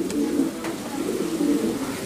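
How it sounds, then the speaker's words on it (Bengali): Golden and Nildumma pigeons coo steadily nearby in low, throaty, rolling murmurs that pulse across the short stretch without pause. "এটা নীলদুম্বা কবুতর আর এটা গোল্ডেন কবুতর"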